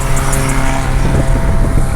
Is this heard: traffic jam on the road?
yes